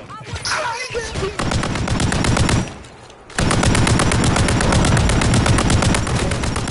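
Sustained automatic gunfire in a video game, loud rapid bursts of shots filling nearly the whole span with only a brief lull midway, close and intense.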